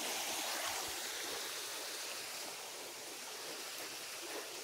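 Water rushing through piping, a steady broadband hiss and roar like a small stream, constant and close throughout.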